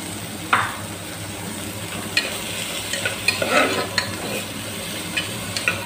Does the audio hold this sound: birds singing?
no